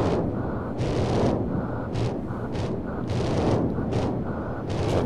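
Repeated bursts of gunfire in the video game GTA San Andreas ring out over a steady rumbling game soundscape, several sharp shots spaced irregularly across the clip.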